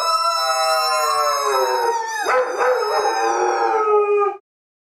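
A standard poodle howls in one long, loud, wavering cry close by that bends in pitch midway and then stops abruptly.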